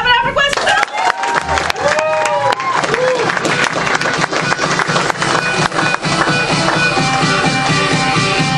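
A crowd at an improv student showcase claps loudly and continuously, with whoops and scattered voices mixed into the dense, sustained applause.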